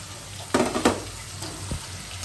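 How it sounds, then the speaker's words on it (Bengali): Pangas fish and spices sautéing in a pan: a close hiss and sizzle with a few quick stirring scrapes and clatters over about two seconds. "মাছটাও কষানো হবে, মশলাটা একটু কষানো হবে।"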